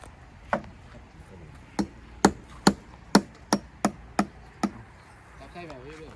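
Sharp, evenly spaced hammer strikes on a wooden fence stake, about nine in a steady rhythm, loud and close, with faint voices in the background.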